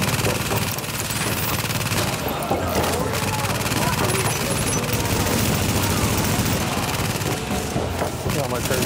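Automated turret firing at an enemy in The Division, during an underground operation: continuous dense gunfire rattles steadily with other game noise underneath, while several voices talk over the shooting.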